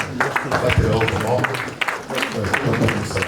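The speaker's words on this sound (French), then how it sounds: "je voudrais, mesdames et messieurs, qu'on applaudisse pour la légende de Mataché Boaké dans la salle" An audience at a live press conference in a national museum applauds, a steady crackle of clapping with crowd voices and talking mixed in throughout.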